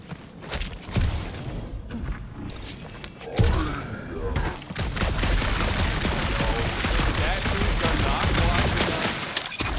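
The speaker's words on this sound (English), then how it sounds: "You do know that aimless shooting isn't gonna scare the monsters away, right?" Gunfire in the Marvel's Guardians of the Galaxy video game: a few heavy thuds and scattered shots, then a dense, sustained rattle of rapid firing that stays loud and close.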